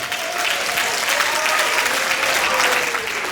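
Steady, dense applause from wedding reception guests for a singing duet, sustained at an even level throughout with a faint tone running underneath.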